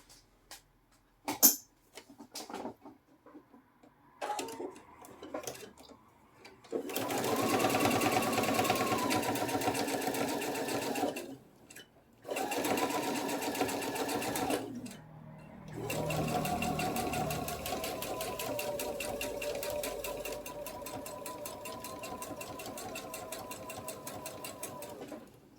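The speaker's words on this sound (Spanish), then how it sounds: "Le voy a dar la costura sobre la marcha." A sewing machine stitches a small mini purse in close, steady whirring runs lasting several seconds each, separated by short pauses, with faint handling sounds in between.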